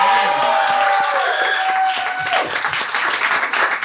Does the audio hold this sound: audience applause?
yes